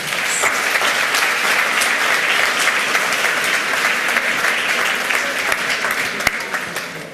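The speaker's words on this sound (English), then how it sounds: "A warm applause for" A conference audience claps steadily for the presenters, a dense, loud applause that holds evenly throughout with no speech over it.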